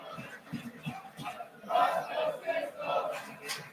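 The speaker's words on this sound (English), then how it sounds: "Crowd here in El Paso" A wrestling arena crowd in El Paso cheers and shouts during a televised TNA match, a swelling roar of many voices with scattered yells, moderately distant.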